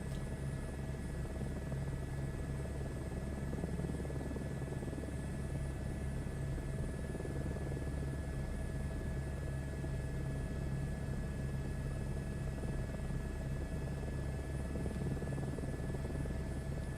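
A simulated helicopter flies the Grand Canyon Green 1 tour route in Microsoft Flight Simulator 2024, a steady low rotor thump and turbine whine holding constant throughout, fairly quiet.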